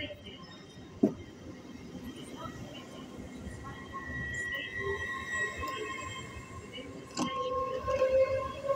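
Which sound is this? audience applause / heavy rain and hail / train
train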